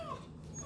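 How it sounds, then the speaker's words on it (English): Dogs whimper and yip faintly in the background at night, a brief thin whine over a low steady room hum with no talking. "I apologize for the dogs in the background."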